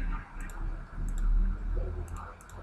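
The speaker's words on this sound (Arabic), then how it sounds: "يبقى كليك اليمين كده اهو" A computer mouse is right-clicked repeatedly on a desktop running Microsoft Access, giving small, crisp clicks in quick pairs spread over a few seconds above a low, steady background rumble.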